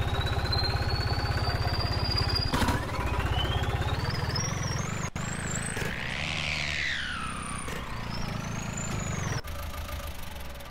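A 60-horsepower New Holland 3630 tractor in Farming Simulator 19 runs at a steady, loud drone, its engine pitch rising and falling as it revs, with brief clicks between changes.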